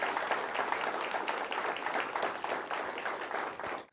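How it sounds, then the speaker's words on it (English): Steady, dense applause from a large studio audience fills the whole stretch, loud and even, then stops abruptly at the end. "Give yourself a round of applause."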